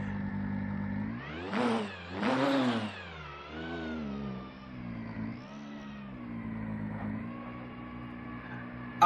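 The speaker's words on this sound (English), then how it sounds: "Outside, I think this car sounds like the actual car." Modded race car engine in the rFactor racing sim, heard from the outside view, revving up and easing off across a few rises and falls in pitch, loud and steady with no talking.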